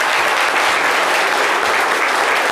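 Loud, dense applause from an audience at a children's literature event, a thick continuous roar of clapping with no pauses, close and filling the whole moment.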